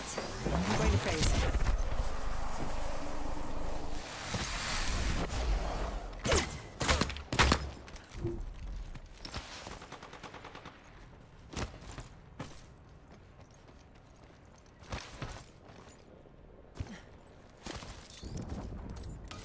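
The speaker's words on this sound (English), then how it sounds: "Enemy right here. They spotted me. I'm taking shots." Rapid bursts of gunfire in the battle-royale shooter game Apex Legends, with sharp shots and clustered volleys, loud at first and then more scattered, mixed with footsteps and occasional in-game character voices.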